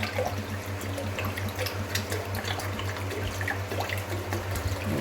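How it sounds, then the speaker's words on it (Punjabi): Water running steadily into a cooking pot on a gas stove as a full litre is added for mango squash syrup, a continuous close trickling pour over a low hum. "ਮੈਂ ਬੋਤਲ ਵਿੱਚ ਨਾ ਮਿਣ ਕੇ ਪੂਰਾ 1 ਲੀਟਰ ਪਾਣੀ ਪਾਇਆ ਹੈ"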